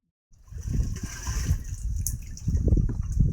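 Water is poured little by little into an opened container to mix a crop pesticide powder, making a close, steady splashing pour that runs continuously for a few seconds.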